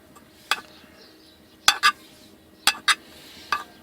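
A utensil knocks and scrapes against a pan as ten egg yolks are stirred to render out their oil, giving a few sharp clacks, some in quick pairs, over a faint background.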